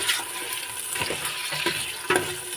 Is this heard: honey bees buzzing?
no